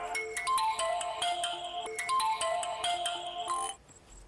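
A phone ringtone in a Hindi-dubbed South Indian movie, a bright repeating electronic melody ringing loud and steady for a few seconds, then stopping abruptly.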